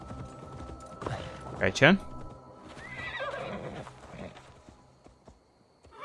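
A horse neighs sharply twice in Assassin's Creed Valhalla, its whinny rising above hoofbeats and game ambience, while someone speaks briefly in Polish nearby.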